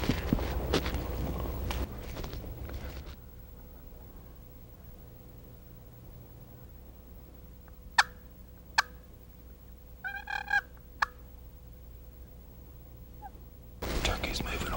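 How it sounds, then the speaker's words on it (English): A wild turkey gobbles faintly in the distance, a few sharp bursts and one rattling gobble breaking a quiet stretch of woodland hush, with rustling and movement before and after. "Turkey's moving away from us."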